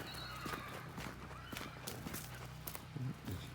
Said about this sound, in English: we're just hearing some horses.